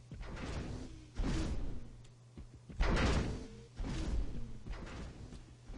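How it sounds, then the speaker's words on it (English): Door opening and closing effects play in a game level editor: a series of about four loud swooshing slides and thuds, each separated by short quieter gaps, with no speech. "We have opening and closing sound effects."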